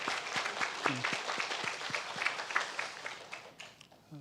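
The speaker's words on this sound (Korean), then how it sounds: "우리 수고하신 분들, 섬기신 분들 잘하셨다고 박수로 격려하고 말씀 나누겠습니다." A church congregation claps for the volunteers who served at a gathering. The applause is dense and fairly close, made of many hands, and fades out over about four seconds with no talking.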